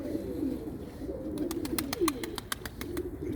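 Low, soft cooing of a pigeon continues throughout, joined midway by a run of rapid, evenly spaced clicks or taps.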